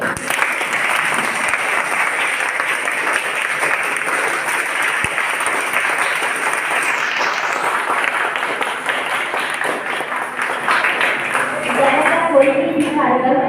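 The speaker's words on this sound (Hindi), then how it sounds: "जोरदार तालियां बजाइए" Schoolchildren at a free uniform and study material distribution event applaud loudly in a sustained, even wash of many hands clapping that lasts the whole stretch, with some voices blending in near the end.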